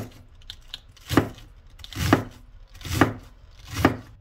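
A knife slices through cabbage in four slow, evenly spaced crunchy chops, each a crisp close thud with a short rasp, followed by a brief pause.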